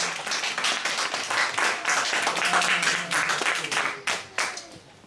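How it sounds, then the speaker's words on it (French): A church congregation claps and cheers for a preacher, dense applause filling the room throughout, swelling in the middle and thinning toward the end with a few scattered claps. "Est-ce qu'on peut acclamer pour l'homme de Dieu?"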